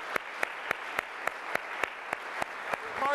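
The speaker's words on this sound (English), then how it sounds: "So give Sarah a round of applause" Steady, evenly spaced claps at a public talk event, sounding quiet and somewhat distant, one crisp clap roughly every quarter second with no voices over them.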